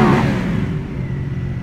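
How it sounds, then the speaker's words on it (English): Stock exhaust of a 2015 Ducati Hyperstrada 850 motorcycle, a loud, close, steady engine drone with a brief rise at the start, heard alone. "Exhaust note, this is stock exhaust,"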